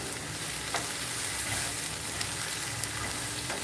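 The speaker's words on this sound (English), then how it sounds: "So just stir fry a little bit." Fresh, colorful vegetables stir-frying in a pan in a home kitchen, giving a steady close sizzle with a few light scrapes and clicks from stirring throughout.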